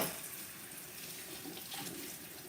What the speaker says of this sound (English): I start running cold water on them to cool them down so they can stop cooking